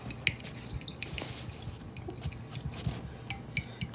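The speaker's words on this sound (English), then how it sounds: "So now we're gonna mix these eggs up." Eggs for an omelet being whisked in a bowl with a metal utensil, a quiet run of irregular clinks and taps against the bowl over soft wet stirring.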